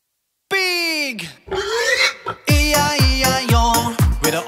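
A sung voice imitates a pig's oinks in the Old MacDonald nursery rhyme. A series of short grunting oink syllables is delivered in rhythm with bright children's music, loud and up close.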